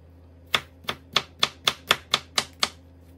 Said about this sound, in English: I cut it up like this. I normally like to get it small enough, diced up.